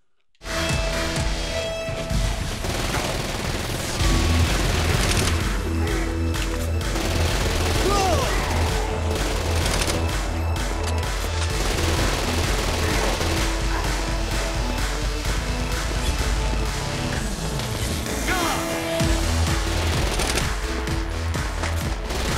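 Sustained video-game gunfire from Saints Row: Gat Out of Hell, a dense, loud fusillade of rapid machine-gun bursts and booming shots over a thick bed of music and effects, continuing almost without pause throughout.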